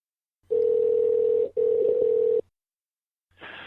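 A telephone dial tone sounds while a call is placed: a steady loud electronic hum, briefly broken, then cut off, followed by a faint rush of line noise after a short silence.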